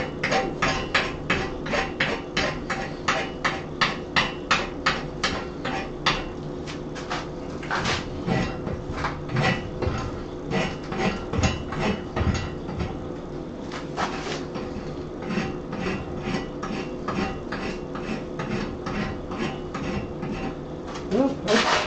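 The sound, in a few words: hot rasping a nail header with a rasp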